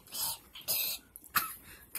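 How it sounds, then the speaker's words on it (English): Close, harsh coughing from one person, a few short raspy bursts in quick succession, fairly quiet and heard alone. "Sound like I was coughing up a hairball."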